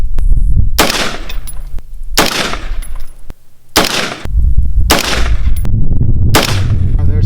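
An MK18 pistol fires Sierra MatchKing 77-grain .223 rounds during an accuracy test, with five loud, sharp shots spaced about one and a half seconds apart, each ringing out with a short echo.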